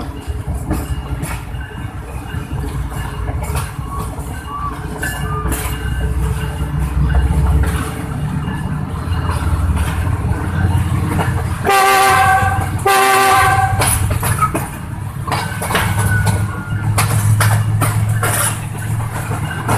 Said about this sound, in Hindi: GU40 अपनी पिकअप पकड़ रहा है।